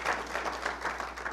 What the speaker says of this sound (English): Ladies and gentlemen, let's give Bill Poster another round of applause for that